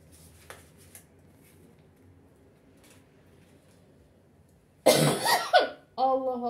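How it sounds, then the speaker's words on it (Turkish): A single person coughs several times in a home kitchen while pancakes are being prepared, a loud cluster of harsh coughs and throat sounds coming after a stretch of near silence and faint clatter. "bugün sabah bir öksürük peydah oldu"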